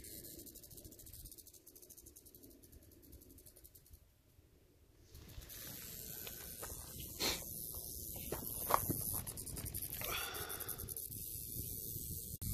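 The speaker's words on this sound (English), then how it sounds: "When you can hear the snake, but you haven't yet seen him" A snake hisses in rocky, low brush, giving a rough, steady hissing that swells over several seconds against outdoor background noise, with a few scattered clicks and rustles.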